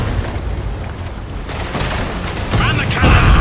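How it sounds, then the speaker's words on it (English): Ship cannons fire in the pirate naval game Pirate Commander, deep booms rolling under continuous battle noise and game effects, with a heavier blast near the end; a voice talks throughout. "Man the cannons!"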